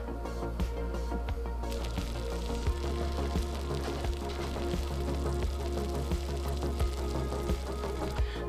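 Homemade beer wort simmering in a pot, a steady low bubbling hiss with faint irregular pops and sizzles, continuous and close.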